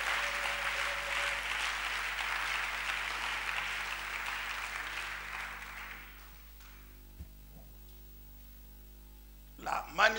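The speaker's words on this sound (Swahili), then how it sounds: "Tumpigie Bwana makofi." A church congregation applauds during a service, a dense burst of clapping for about six seconds that then fades to near silence, with faint stray sounds afterward.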